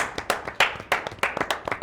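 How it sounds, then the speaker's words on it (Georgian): A small studio audience on a television quiz show claps in sharp, uneven bursts, individual hand claps clearly separated and close, lasting under two seconds. "აპლოდისმენტები"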